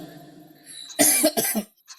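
A light cough in a few short bursts, close by, after a quiet pause with faint background hiss.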